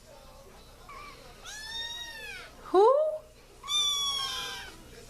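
Kittens meowing indoors, a few drawn-out, wavering mews, one sharper and louder in the middle, with a person talking briefly among them.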